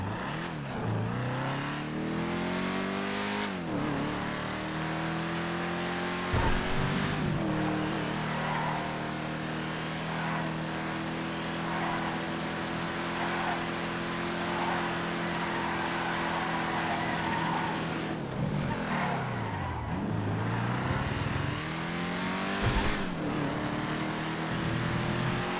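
A Ford GT500 revs repeatedly, its engine pitch climbing and falling through several gear changes before settling into a long, steady drone close to the microphone.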